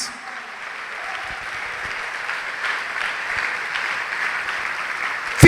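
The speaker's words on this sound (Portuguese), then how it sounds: "Vamos aplaudir a Jesus." A church congregation at a Portuguese-language service applauds steadily and densely throughout, swelling slightly toward the end.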